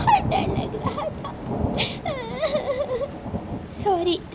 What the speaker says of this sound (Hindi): हमारा सारा घर भीग रहा था और बारिश भी इतनी तेज हो गई थी